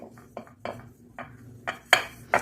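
A metal pot is handled while being greased with ghee in a home kitchen, producing a series of light, close clinks and scrapes, several soft knocks building to a couple of sharper metallic taps.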